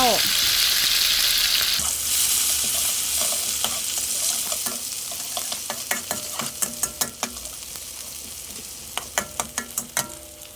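Shallots frying in hot oil for a stir-fry of pumpkin shoots with egg, a dense steady sizzle that slowly thins out, with sharp scraping stirs and clacks of a utensil against the pan coming more often near the end.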